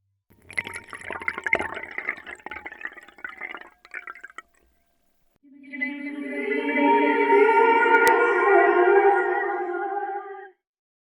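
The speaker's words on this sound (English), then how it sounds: "It could be water being poured." Water being poured into a vessel, first a splashy, trickling stream for about four seconds, then after a short gap a steadier, louder pour with a rising gurgling tone that fills the cup until it stops, close and alone.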